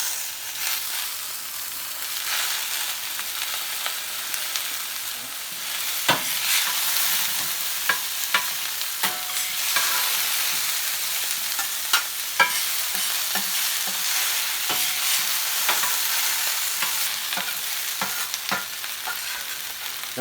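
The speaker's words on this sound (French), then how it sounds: "Nous allons ajouter les gésiers." Gizzards sizzle and fry on a hot plancha while being stirred, a steady bright hiss broken by frequent scraping clicks of the utensil, with no one talking.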